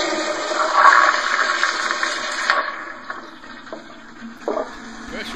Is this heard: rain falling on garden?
no